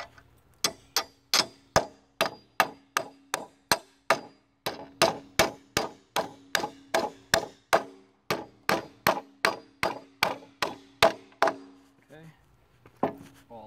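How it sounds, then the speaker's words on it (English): A hammer strikes metal parts of a deer fence again and again in steady, ringing taps, close and loud, about thirty blows with brief pauses between runs. "Grab a hammer."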